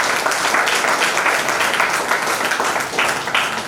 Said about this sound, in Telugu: చప్పట్లు కొట్టి ప్రభువును మహిమ.